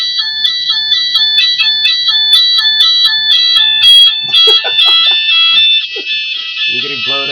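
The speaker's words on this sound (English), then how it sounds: "That's my fire alarm." A home fire alarm sounds loud and close, its rapid repeating electronic beeps continuing through the whole stretch while a person talks over it in a room in Osaka, Japan.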